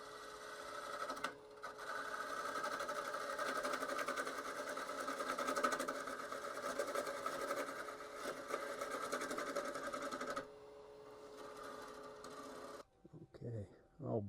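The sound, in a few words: wood lathe turning the bottom of a koa wood bowl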